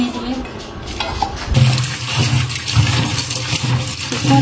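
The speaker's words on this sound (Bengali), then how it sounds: "আমি সবজিগুলো সব ধুয়ে নেই" Water runs from a tap while vegetables are washed in a sink, a steady close splashing stream with faint voices in the background.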